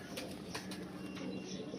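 Pigeons of a nasal breed coo softly and repeatedly, with low murmuring calls and a few faint flutters, quiet and close by, and no voices heard.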